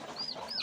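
A desi hen sitting on a clutch of eggs gives a brief, faint pair of soft clucking calls, close by and with no talk.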